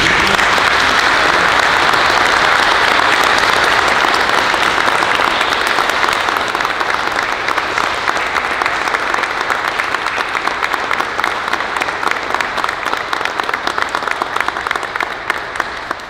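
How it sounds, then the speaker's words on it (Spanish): A church congregation at a quinceañera celebration breaks into sustained applause, a loud, dense wash of many hands clapping that carries on for a long stretch before slowly thinning out toward the end. "Le damos un aplauso."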